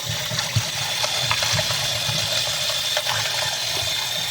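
Tap water running steadily over sliced bone-in turkey drumsticks in a sink, a continuous close splashing gush with small irregular splatters as the meat is rinsed, no voices.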